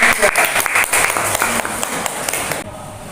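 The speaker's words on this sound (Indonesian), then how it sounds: "Give a applause for the class." A classroom of students claps in steady applause for a few seconds, close and lively, before the clapping fades into quieter room sound.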